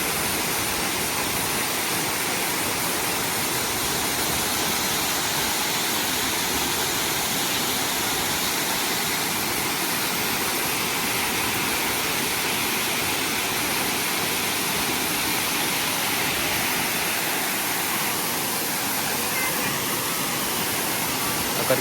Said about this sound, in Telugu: సేపు అట్లా వాటర్ ఫాల్ చూడండి, ఎంత కామ్గా ఉన్నది చూడండి